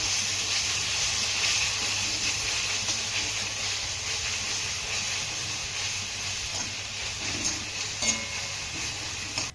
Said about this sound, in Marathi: हा टोमॅटो देखील आपल्याला छान असा मौसूद होईपर्यंत परतून घ्यायचा आहे